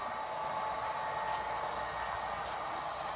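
Three model railroad trains running on a layout track, producing a steady, moderate rolling hiss and hum that continues unbroken, with faint wheel noise and no talking.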